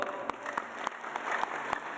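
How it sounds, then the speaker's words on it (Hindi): Audience clapping at a talk on Patanjali's health remedies, a soft, fairly distant patter with a few sharper claps standing out at regular intervals. "इसके लिए ताली बजाओ तुम"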